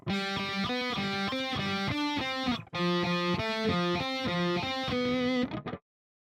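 Guitar picking out two measures of a lesson tune, a steady run of sustained, overdriven-sounding notes with one brief break, close and unaccompanied.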